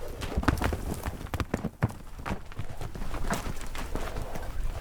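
Horses' hooves clatter on open pasture as foals are separated from their mothers on a Namibian desert farm: a loose series of irregular, fairly close thuds and clops with background noise throughout.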